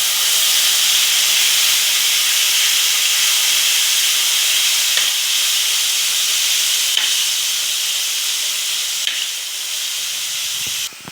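Spice paste of cumin, coriander, chili, ginger and garlic sizzles steadily in a hot pan of oil for aloo dum, a loud, continuous hiss with no voices.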